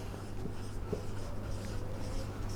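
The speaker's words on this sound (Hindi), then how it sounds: "सो मैं वह यहाँ पे लिखती हूँ" A pen scratches across paper or a board while an equation is written out, a soft continuous scribbling over a steady background hum, faint and close, with no talking.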